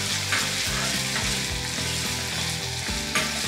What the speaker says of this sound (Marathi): आणि कांदा मस्तपैकी सोनेरी रंगावर परतून घेऊयात।